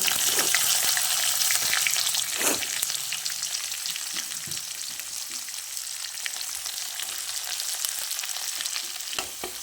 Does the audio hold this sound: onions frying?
yes